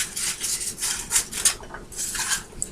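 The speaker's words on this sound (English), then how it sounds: "So we're going to put the ham in the pan" Slices of ham scrape and clatter into a skillet still coated with grease, with metallic pan and utensil rubbing in several short bursts, close up with no talking.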